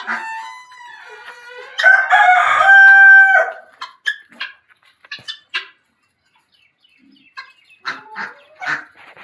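A rooster on a farm garden crows loudly and close in one long strained call, followed by a series of short, sharp clucks and chicken calls, then a few fainter clucks toward the end.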